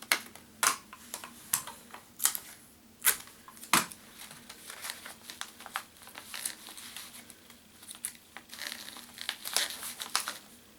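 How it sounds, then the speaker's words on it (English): Tape is pulled and pressed to fix a stick onto a cardboard duel disk, giving close, sharp crinkling and crackling bursts in an irregular rhythm, with quieter rustling in between. "Now take this stick and just like tape it like right here or something."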